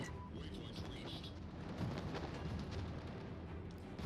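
Bomb explosions from the aircraft carrier Ark Royal land on an enemy ship in the World of Warships video game, heard as a dense, rumbling, continuous roar of blasts at fairly low level.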